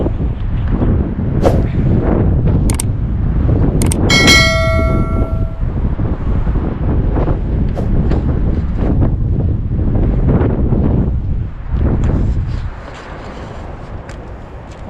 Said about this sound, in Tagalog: Malakas yung hangin pero hindi umiikot